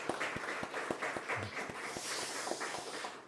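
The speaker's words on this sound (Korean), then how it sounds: "먼저 우리 축하의 박수를 한번 올리겠습니다." A church congregation applauding to congratulate a sister before her wedding, a thin round of scattered individual claps with distinct sharp hits, fairly faint in a room.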